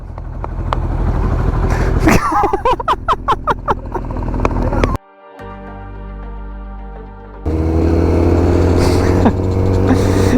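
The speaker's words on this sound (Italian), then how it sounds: "Ma si accende sta moto o no?" A motorcycle engine cranks with rapid sputtering pulses, cuts out briefly, then catches and roars loudly at idle, with voices faintly underneath.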